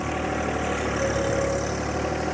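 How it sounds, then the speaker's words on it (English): The engine of a machine with doubled hydraulic flow idles at about 1550 rpm. It gives a steady, even hum with a low, continuous drone and no change in pitch, close and alone without talk. "Let me go up to 1500, and this would be normal idle right here"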